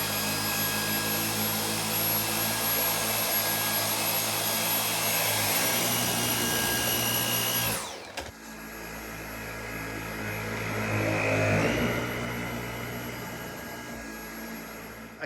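Dyson V8 cordless vacuum cleaner running on carpet, a loud steady whine that cuts off briefly and then resumes with a rising, surging tone.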